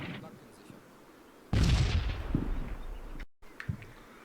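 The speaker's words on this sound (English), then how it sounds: "waiting for the artillery barrage to end" Artillery barrage in the video game Combat Mission: a sudden loud booming impact with a long rumbling decay, then brief cut and a smaller distant thud, with faint voices nearby.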